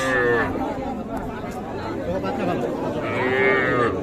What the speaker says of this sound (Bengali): এগুলো দেখছি আমরা এগুলো সবগুলো কিন্তু বকনা বাচ্চা